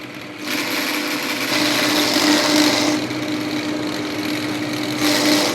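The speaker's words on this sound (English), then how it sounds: "So that's full throttle on the throttle lever." Diesel engine with a stock 603/606 injection pump run up to full throttle on the lever, making a loud steady roar with a surge in the middle and another rise near the end, heard close with no talking.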